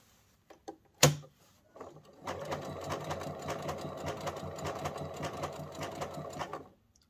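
Sewing machine stitching a triple-stitch embroidery line on a trouser back pocket: a couple of sharp mechanical clicks and a thump, then about four seconds of close, steady whirring stitching that stops abruptly.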